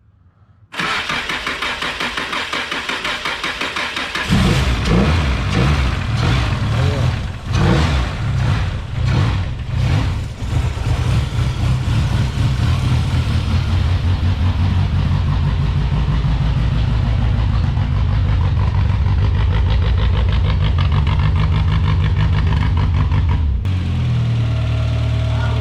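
A truck engine cranks briefly, catches and roars to life, then settles into a loud, steady idle with a few uneven pulses early on, close to the listener and alone for about twenty seconds before cutting out.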